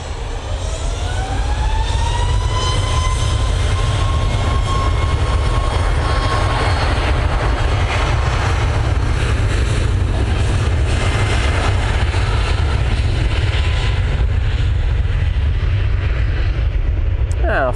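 An airliner takes off from Manchester Airport, its jet engines a loud continuous roar with a rising whine early on, steady and close throughout.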